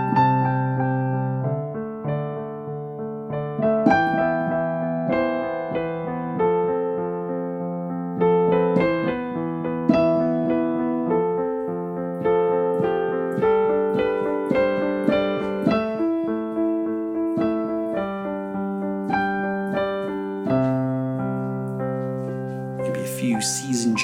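Solo piano improvising on the white keys only, a gentle melody over steady bass notes in a moderate rhythm, played alone and clearly for about twenty seconds, settling onto C at the end.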